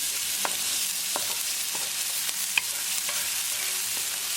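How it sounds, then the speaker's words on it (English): Green chilies fry with a tadka of cooked onions in a pan: a steady, bright sizzle runs throughout, broken by a few sharp spoon clicks and scrapes against the pan, one louder than the rest. "Cook green chili along with tadka for half minute."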